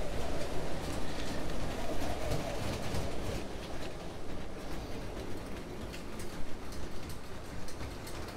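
Model ICE train rolling along TrixBrix track on a layout, a steady rumbling clatter that continues throughout at moderate level with no talk.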